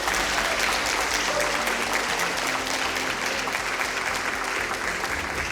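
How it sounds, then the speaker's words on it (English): An audience at a matric gala awards event applauds in a continuous, even wash of clapping, steady and moderately loud from start to finish, with a low background hum beneath it. "we really, really want to once again applaud you"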